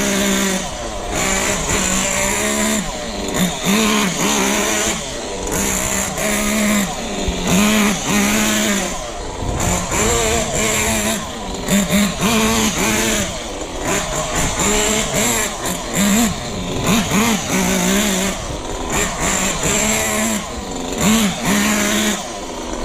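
A 1/8 scale nitro RC buggy with a thermal engine buzzes loudly nearby, its high-pitched revs rising and dropping in repeated bursts of acceleration and braking for the whole stretch.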